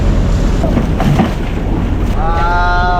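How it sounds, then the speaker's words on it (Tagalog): Strong northeast monsoon wind buffets a small fishing boat at sea, a steady rough roar across the microphone with a brief whistling tone near the end. "Kaya malakas ang amihan, kunti."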